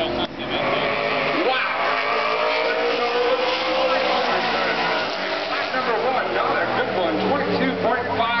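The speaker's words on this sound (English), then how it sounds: "A beautiful race car this year for Micks and the chrome wheels" Race car engine roaring on track during qualifying for the 2011 Dickies 200 at Mosport Speedway, a car with chrome wheels; steady loud engine noise throughout, with commentators talking over it.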